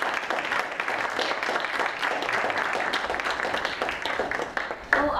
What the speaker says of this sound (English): We give a warm round of applause to our speaker and discussant.